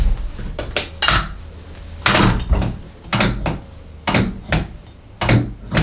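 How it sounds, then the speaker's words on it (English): The metal latches of a Secretlab Titan gaming chair knock against a hard desk, giving sharp, loud clacks close by, about a dozen hits mostly in quick pairs with short pauses between, with no talking. "when you hit these metal latches on the chair against a hard surface like a desk"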